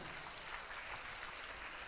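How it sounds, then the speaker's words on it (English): Applause from an audience at a cycle heritage quiz event in Chennai, a dense steady clatter of many hands filling the whole stretch at an even, moderate level. "can we have a please big round of applause for the Cycle Pure Agarbati's team"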